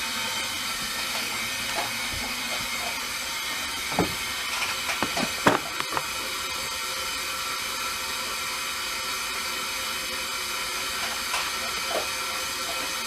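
A 2020 Enduro wood stove heating a pot of water gives off a steady, fairly faint roaring hiss throughout, broken by a few brief clunks and knocks.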